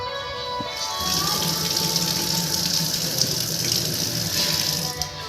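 A kitchen basin tap opened to full force, the water gushing in a loud, steady rush that starts after a brief quiet moment and keeps pouring without pause.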